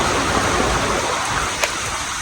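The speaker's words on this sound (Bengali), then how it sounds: "প্রতিদিনই সকাল সকাল বৃষ্টি আর অনেক বৃষ্টি পড়তেছে" Heavy morning rain pours in a dense, loud, continuous hiss close by, with no voices.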